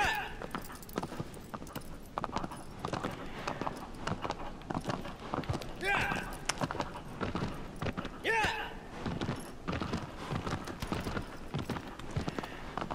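A horse's hooves clip-clop in the video game Shadow of the Colossus, a steady run of close hoofbeats with a voice talking over parts of it.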